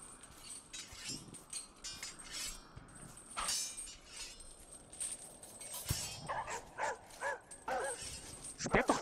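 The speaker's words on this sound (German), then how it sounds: "Sperrt doch einer mal die Hunde weg!" Dogs bark and yip in the background in repeated short bursts that cluster toward the end, over steady room noise, with faint talk at times.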